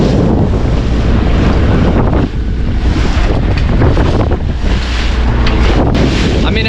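A small sailboat motors along the Texas Intracoastal Waterway. Loud, continuous wind buffets the microphone over engine drone and water wash, a constant dense roar with no pause.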